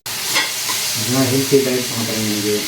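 Tomatoes tossed into a hot pan for a kuzhambu, an abrupt hiss followed by steady sizzling frying and a few stirring scrapes, loud and close, with no voices.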